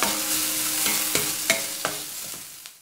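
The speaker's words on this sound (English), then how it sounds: "saute it like this so that the onions are like, all around the kadai" Onions stirred and sautéing in a hot kadai give a soft continuous sizzle, broken by several sharp scrapes and knocks of the spoon against the pan at irregular intervals; no one speaks.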